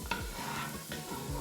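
Onions and garlic sizzle and fry in a pan, with soft scraping strokes of stirring heard close up and no voices.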